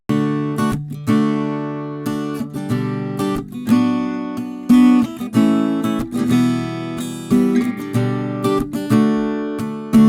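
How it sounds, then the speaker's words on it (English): Acoustic guitar is strummed in the left channel of a multitracked recording, with loud, rhythmic chord strokes and ringing notes that swell and decay in regular waves throughout. "now I have recorded 2 more strummed acoustic guitar parts"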